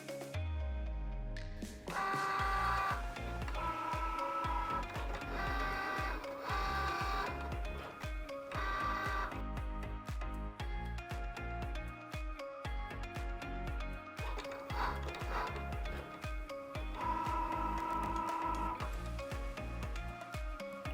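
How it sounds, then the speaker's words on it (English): A Cricut Joy cutting machine works on a card, making a continuous mechanical whir with rhythmic stepping tones and repeated motor sweeps, close and clear with no talking. "The Cricut Joy will only cut the top layer of your card."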